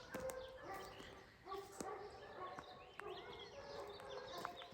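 Several dogs on a livestock guardian dog rescue farm bark and yip in scattered overlapping bursts, some sharp and some farther off, over steady outdoor background noise.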